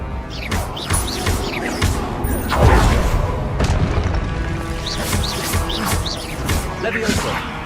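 Confringo fire spells blast during Hogwarts Legacy combat, with booming explosive impacts and crashing thuds in quick succession, loud and close, mixed with game voices and chirping effects.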